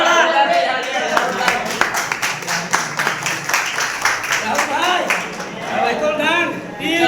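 A crowd claps loudly for Michael Dang, rapid applause rising and falling across the scene while a voice talks over it.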